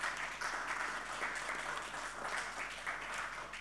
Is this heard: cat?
no